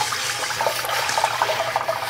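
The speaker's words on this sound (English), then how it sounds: "I don't need the water running the whole time I'm doing this" Tap water running into a sink while a 100-year-old Griswold cast iron pan is scrubbed after a lye bath, a steady close splashing stream with small irregular scraping bursts.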